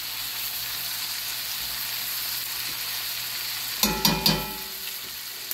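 Steak browns in a pan with a steady, close sizzle, then a few sharp spits and pops burst out near the end before the frying settles back to a constant hiss.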